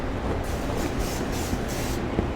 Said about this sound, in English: And now we spray the grill